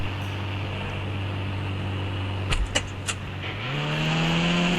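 A blue car in a video game drives with a steady engine drone, a few sharp clicks midway, then the engine pitch rises as it speeds up; no talking.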